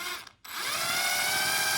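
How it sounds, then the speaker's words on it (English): A power drill bores holes through the surface of soft wood while an industrial JUKI sewing machine is being mounted, a short pause then a steady, close whirring grind running continuously. "And now all I need to do is to drill the holes"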